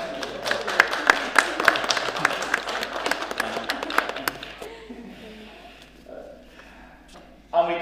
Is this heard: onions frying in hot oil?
no